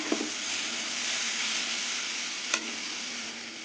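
Steady sizzle of frying with turmeric in a pan, for a young hog plum chutney, broadband and even throughout, with a couple of brief stirring scrapes near the start and one sharp clink midway.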